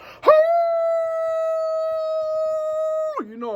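A man imitates a wolf with his voice, giving one loud, sustained, steady-pitched howl close to the microphone. The howl rises sharply at the start, holds for about three seconds, and then drops off.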